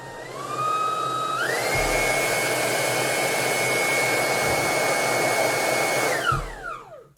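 Ultenic U11 cordless stick vacuum cleaner runs with a steady high-pitched whine, stepping up to a higher power setting early on, holding a loud even roar, then winding down at the end, heard up close with no talking.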